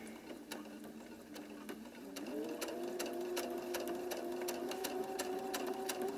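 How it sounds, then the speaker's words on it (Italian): A sewing machine stitching a patchwork quilt, running steadily with a rapid mechanical whir and rhythmic needle clicks that pick up speed partway through, fairly quiet and close, with no voices. "cucite appunto nel solco dove avete deciso"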